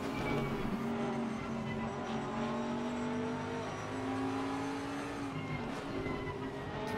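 Onboard engine of a Bentley race car at Brands Hatch, a steady, loud drone with held pitch that dips briefly as the driver shifts, running throughout with no talk.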